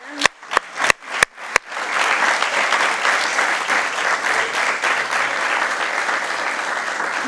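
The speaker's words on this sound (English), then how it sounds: "So give me a big applause for them." At an economics conference session, a few sharp, separate claps quickly swell into sustained audience applause that continues evenly to the end.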